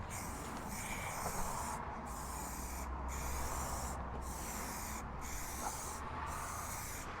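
An airbrush or spray gun lays a light coat of Dunkel Gelb paint onto a large 1/6 scale RC Armortek Jagdpanther G2 model tank, giving a steady close hiss broken by several brief pauses between passes.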